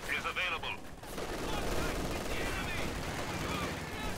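Light machine gun fire from German LMG grenadiers in Company of Heroes 2, with dense, rapid bursts of battle gunfire running throughout and someone talking over the action.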